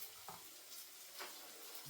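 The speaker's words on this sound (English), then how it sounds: "Give that a stir." Bacon and mushroom risotto is stirred in a pan with a faint, soft sizzle and a couple of quiet scraping strokes.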